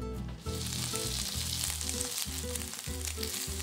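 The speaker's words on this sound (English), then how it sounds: "shape each piece into a ball, and quickly place it into the pan" Pork and tofu meatballs fry in vegetable oil in a pan with a loud, dense, close sizzle and crackle, steady and uninterrupted throughout.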